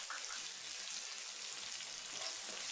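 Chopped onions, green chilies and cumin frying in a pan, a steady, faint hiss of oil with no distinct stirring or voices.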